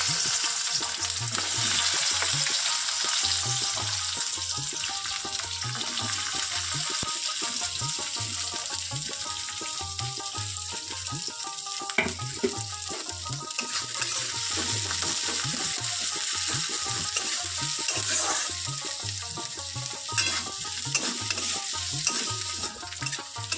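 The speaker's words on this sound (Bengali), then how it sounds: "তোমার লাল লাল করে পেঁয়াজ ভাজা হয়ে গেছে এটা বিরিয়ানির পেঁয়াজ" Thick-cut onions fry in oil until deep red for biryani, giving a steady close sizzle broken by repeated scraping and clinking stirs of a metal spatula against the pan, with no talking.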